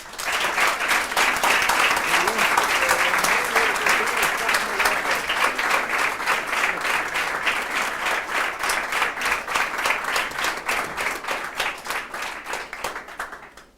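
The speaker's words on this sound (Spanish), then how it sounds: "Lo recibimos con un fuerte aplauso." A church congregation gives a loud, sustained round of applause that fills the room, steady and dense for about thirteen seconds before tapering at the end.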